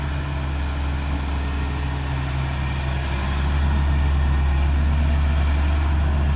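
CAT 320C excavator diesel engine running steadily at a deep idle, a loud low rumble with a constant drone that swells slightly partway through, no speech.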